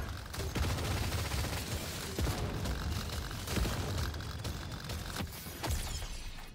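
Smart rifle fire in Deep Rock Galactic Survivor: dense, continuous crackling gunfire with explosive pops, loud and busy with no pauses.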